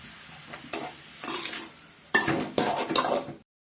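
Boiled milk poured into a rava laddu mixture while it is stirred, producing bursts of scraping and sloshing against a pan and utensil, louder toward the end before cutting to silence, with no voices.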